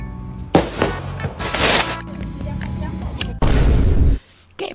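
Loud firecracker bursts crackle and boom in clusters, with a dense rattling barrage near the end before a brief lull.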